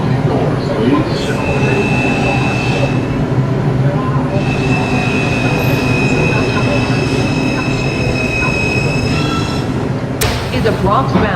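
An R142 subway car on the NYC 5 line runs at speed, with a loud continuous rumble, tonal motor whine and rail squeals, and a sharp burst of noise near the end.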